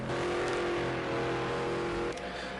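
Mustang GT4 race car engines in Project Cars 2, a steady loud droning roar with a held tone throughout, a brief shift near the end, no voices.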